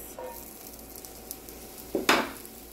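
Chopped onion goes into a pan for spinach artichoke dip: a faint background sizzle, a small clink, then a sudden louder burst of frying as the onion lands, with a metallic tap.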